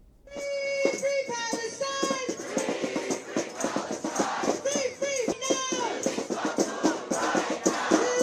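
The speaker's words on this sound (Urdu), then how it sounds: "میں چاہتا ہوں کہ نعروں کا ایک سین آپ کے ساتھ ایک چھوٹا سا کلپ شیئر کروں" A protest crowd chants slogans demanding Mahmoud Khalil's release, many voices rising and falling in a loud, rhythmic, repeated call, close and energetic from start to finish.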